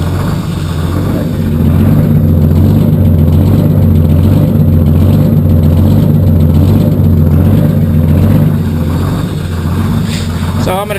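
A Detroit Diesel engine idles steadily after a cold start, loud and close with a deep, even rumble that carries on unbroken throughout.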